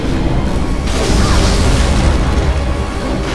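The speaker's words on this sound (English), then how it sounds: "Explosion." A loud, sustained explosion roars through a fight in the video game Bloodborne, a dense rumbling boom that fills the whole stretch without pause.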